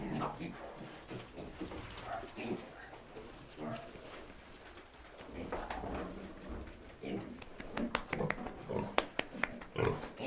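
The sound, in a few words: pigs grunting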